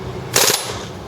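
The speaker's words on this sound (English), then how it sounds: "Let's go ahead and do a rate of fire now. Rounds per minute. Full auto." A WE G36c airsoft gun fires a short full-auto burst of about a quarter second, close and fairly loud, with no talking over it.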